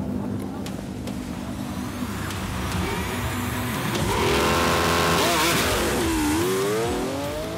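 Lamborghini accelerating hard down a drag-race straight, its engine revving up loud and close with rising gear pulls and a final surging sweep, while a voice talks over the roar.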